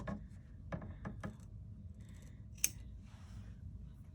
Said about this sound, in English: trim that extra zipper off at the end of that back tap using some good duckbill scissors